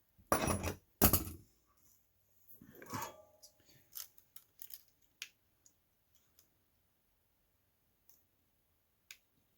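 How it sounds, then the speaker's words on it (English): A wire end is trimmed on a Vtech Alphabet Apple toy, with a couple of sharp snipping cuts up close, a rustle, and then scattered faint clicks and taps fading into quiet. "we'll trim the end of this wire"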